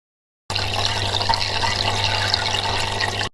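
Water runs steadily as a container is filled in a train bathroom, a loud, continuous rushing splash that starts abruptly and stops after about three seconds, with no talk.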